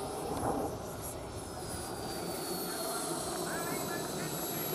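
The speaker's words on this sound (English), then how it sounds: "The Airbus leads the de Havilland Comet 4 out onto the airstrip." An Airbus A330 airliner taxis out onto an airstrip at an air display, its engines producing a steady, continuous roar with a high whine on top that holds throughout without a break.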